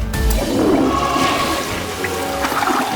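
A newly installed toilet flushes, loud and close, with a rushing surge of water that swirls down and drains away over a few seconds, no voices present.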